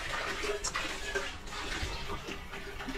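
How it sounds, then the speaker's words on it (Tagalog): Water trickles and splashes steadily as a small amount is poured into food being cooked, with a few clinks and soft background noise throughout. "Dinadala ko ng kunting tubig para maluto siya."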